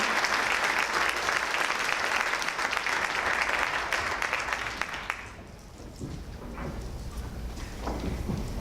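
Dense audience applause at a university honors day ceremony fills the first five seconds steadily, then thins to scattered clapping and a quieter room.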